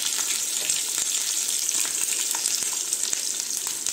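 Peanuts and green chili sizzle steadily in hot tempering oil for Indori poha, a dense, continuous crackling hiss with scattered sharp pops and no talking.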